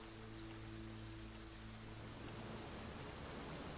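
Steady rain hisses as a dense, even wash of noise in the video game The Flame in the Flood, faint and constant, with a low hum underneath that fades partway through.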